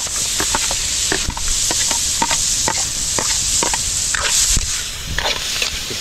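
Sliced onion sizzling in melted margarine in a hot pan, a constant close frying hiss broken by frequent sharp stirring scrapes and taps, with no voices.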